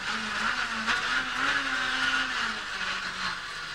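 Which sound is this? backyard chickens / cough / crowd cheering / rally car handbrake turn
rally car handbrake turn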